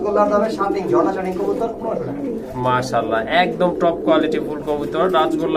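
A pair of Rajgolla pigeons coo in soft rolling throaty calls nearby, largely under someone talking throughout.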